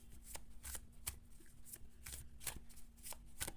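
Tarot cards are shuffled by hand in a quiet room, giving soft papery riffles and light slaps in irregular bursts, faint and close, with no voices heard.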